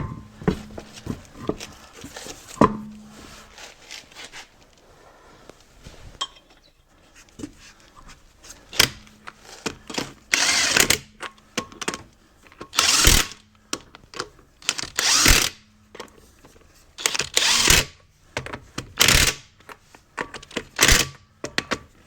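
An impact wrench fires short bursts of rattling hammering while lightly snugging the lug nuts on a 2011 Chevrolet Impala during a brake job, with quiet pauses and small clicks between the loud bursts.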